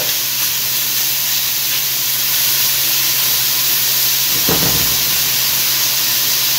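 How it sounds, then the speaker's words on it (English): Beef for a Philly cheesesteak sears in a really hot pan, a loud, steady hiss and sizzle running unbroken throughout, close up and with no voices. "And we're just gonna leave this to sear."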